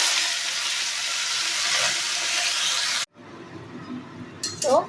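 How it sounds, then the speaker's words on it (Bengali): Jute leaves with green chili sizzle loudly in hot oil in a pan for a lentil dish, then the sizzle cuts off and a few soft stirring scrapes and light metallic clinks follow. "তো পাট পাতাগুলো আমি তেলের মধ্যে দিয়ে নাড়াচাড়া করে নিচ্ছি।"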